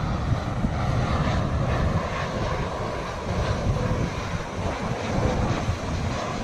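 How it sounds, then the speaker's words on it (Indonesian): A Lion Air jet airliner roars overhead near Yogyakarta airport in a steady, broad rumble that fills the whole clip, mixed with gusting wind against the microphone. "itu ada pesawat Lion"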